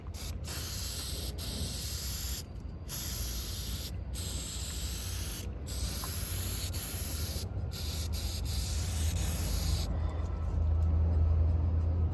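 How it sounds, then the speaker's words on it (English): Rust converter is sprayed onto the rusty fender well of a cheap Dodge Charger in a steady, close hiss that runs for several seconds with a few short breaks between bursts. "We're gonna hit it with the rust converter."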